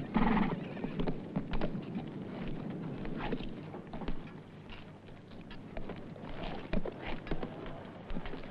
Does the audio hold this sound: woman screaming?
no